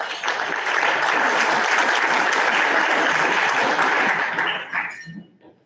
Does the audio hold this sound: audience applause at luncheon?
yes